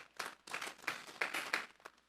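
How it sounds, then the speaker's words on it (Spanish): A church congregation claps together in a brief burst of applause, several uneven swells of clapping at moderate distance, fairly quiet overall. "Vamos a darle un fuerte aplauso pues al Señor esta tarde."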